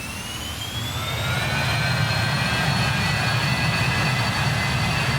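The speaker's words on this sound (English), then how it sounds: "One of the things I really like about this plane is the engine sound." A BAe 146 jet airliner's engines roar steadily in Microsoft Flight Simulator, a broad low rumble with a high whining tone that rises and then holds, loud and continuous with no talking.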